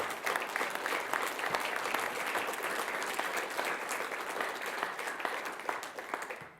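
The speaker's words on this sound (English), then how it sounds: "can you stand so we can give you a round of applause, please, for all you do to support your students?" Audience applause for parents of student athletes at a school district governing board meeting, a steady roomful of clapping that holds at an even level from start to finish with no voices over it.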